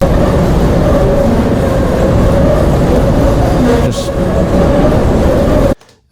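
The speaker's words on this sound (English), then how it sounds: "I also made sure to record turns, which sound very different" A Chicago train rumbles loudly and steadily on the rails with a persistent high metallic wheel squeal through the turn, then cuts off abruptly near the end.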